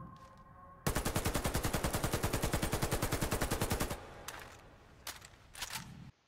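The FI-103 fires in the shooter game Warface: a loud, rapid automatic burst of about three seconds with evenly spaced shots, followed by quieter handling clicks and a couple of short, faint mechanical sounds.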